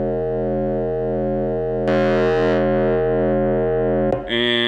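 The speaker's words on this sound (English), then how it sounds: "And now I'm gonna go into distortion." Synthesizer tone in Ableton Live running through a distortion effect, a loud sustained buzzing note whose harmonics get brighter partway through before the sound is abruptly cut and switches to a harsher tone.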